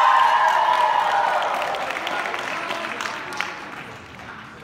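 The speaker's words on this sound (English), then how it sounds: "Big round of applause, Colin Hobb." A game show audience applauds and cheers for a contestant. The clapping is fairly loud at first, then fades over a few seconds into scattered claps with a bit of crowd noise.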